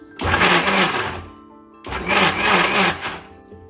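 A mixer grinder pulses eggs into minced keema in two loud whirring bursts of about a second and a half each, separated by a short pause, close up.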